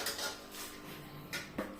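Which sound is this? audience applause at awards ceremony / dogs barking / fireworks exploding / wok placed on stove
wok placed on stove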